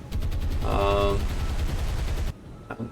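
Naval guns in the warship game War on the Sea fire in rapid rattling bursts for about two seconds, loud and close, with a faint voice underneath before it cuts to near silence.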